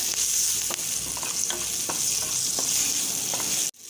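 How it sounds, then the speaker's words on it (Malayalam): Turmeric is stirred into a sizzling chili and asafoetida tempering in a pan, a steady close frying hiss broken by soft scraping strokes of the spoon, with no voices. "എന്നിട്ട് ഇത് നന്നായിട്ടൊന്ന് ഇളക്കി കൊടുക്കാം"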